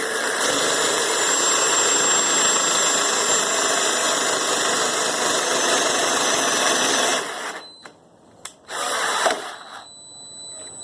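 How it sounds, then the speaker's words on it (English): A power drill with its trigger stuck on whines steadily and loudly for several seconds, then cuts off, briefly restarts and stops again, leaving quiet. "The drill twisted and trigger got stuck open."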